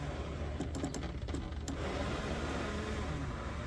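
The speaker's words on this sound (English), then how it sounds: "window goes up and down real nice" A 1997-2004 Buick Regal power window motor drives the window along its track in a continuous faint mechanical whir, with a few brief clicks early on, and no talking.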